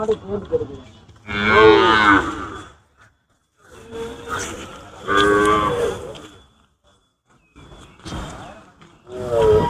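Cattle moo loudly and close by at the Anthiyur temple festival cattle fair in Erode, with several long, drawn-out calls separated by pauses.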